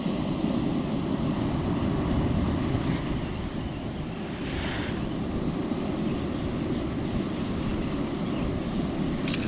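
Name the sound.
waves smashing against the rocks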